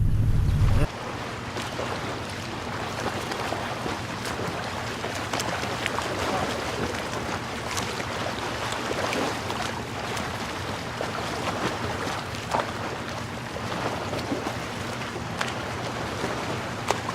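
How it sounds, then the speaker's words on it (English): Ocean waves roll in at Jalama Beach as the tide comes in, a steady broadband wash of surf with wind buffeting the microphone throughout, and a louder low rumble in the first second. "the tide's kind of coming in"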